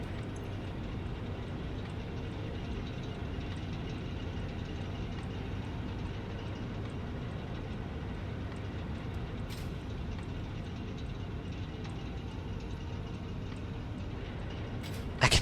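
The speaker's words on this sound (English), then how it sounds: "I can barely hear the chill hop over the sound of the coal engines." Coal-powered generators run in a factory in the video game Satisfactory, giving a continuous low, heavy mechanical rumble and hum that drones steadily with no pauses and no talk over it.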